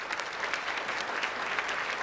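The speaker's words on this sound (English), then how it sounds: "Let's give Robert and his firm a round of applause" A luncheon audience at a United Way charity event gives a round of applause for a lawyer and his firm, a steady, even clapping from many hands that fills the whole short stretch without speech.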